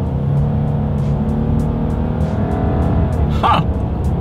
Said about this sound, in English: let's go ahead and see how quickly we can get this new 2020 Subaru Legacy here up to speed